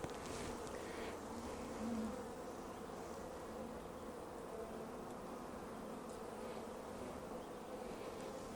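Honey bees buzzing around an open hive during an inspection after three weeks, a dense steady drone of many insects close by, continuous and even throughout.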